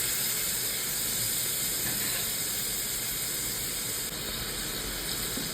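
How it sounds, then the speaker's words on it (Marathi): Finely chopped tomato sautéing in a pan for Marathi-style moong dal makes a steady, loud hiss and sizzle that holds throughout with no talking. "टोमॅटोसाठी परत छान परतवून घ्या."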